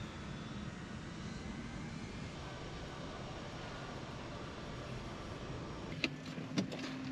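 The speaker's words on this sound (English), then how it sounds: "just as this C-17 Globemaster taxis out for takeoff" A C-17 Globemaster military transport jet taxis out for takeoff, its engines a steady broad roar heard from a moderate distance, with a few brief sharp clicks near the end.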